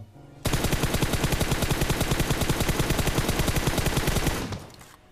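Sustained automatic gunfire in the BGMI battle royale game rattles out as one loud, rapid, unbroken burst lasting about four seconds before cutting off.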